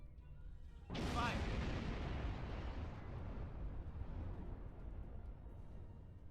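Starship weapons fire in the Star Trek Online video game, a sudden loud blast that swells into a long, rumbling roar and slowly fades over several seconds.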